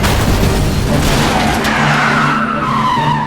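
A blue pulse gun attack roars in an animated car race cartoon, a loud sustained rushing blast with squealing, skidding tones sweeping down near the end, no talk.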